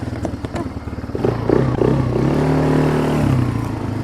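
A Spark SP 200-4 ATV engine running while riding along a forest road, a steady mid-pitched drone that rises after an initial rattling idle and holds loud and close, with faint talk in the background.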